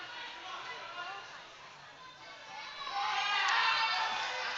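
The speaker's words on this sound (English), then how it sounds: "on camera 3, you can hear a lot of cheering" A crowd of spectators at a provincial bouldering competition qualifier, a steady roar of voices and cheering that swells louder about two-thirds of the way through, with children's shouts mixed in.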